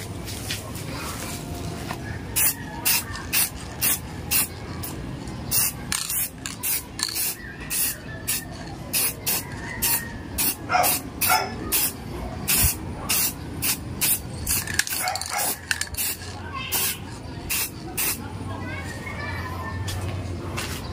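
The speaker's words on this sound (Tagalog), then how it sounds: "Yan, spray lang naman konti." Short bursts of spray paint hissing from an aerosol can while a metal piece is repainted, repeated in a quick rhythm close by, with children playing and talking in the background.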